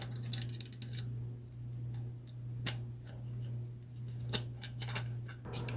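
Pliers tighten a blow off valve on an AWD Mini Cooper, giving a few sharp metallic clicks and ticks spaced apart over a steady low engine-bay hum, close and fairly quiet with no talking.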